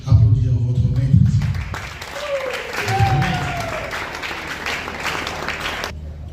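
Audience applause at an NGO launch event for an actress, clapping in a crowd at moderate loudness, with voices, a tonal whistle-like sound and crowd murmur running under and over it.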